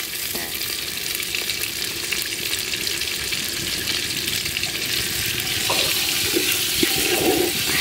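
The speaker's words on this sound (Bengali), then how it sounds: "এই যে আমাদের মাংস দেওয়া হচ্ছে।" Mutton tipped into a hot, spiced pot for a village-style biryani, giving a steady close sizzle and frying hiss with wet stirring and splashing that grows busier toward the end; no voices.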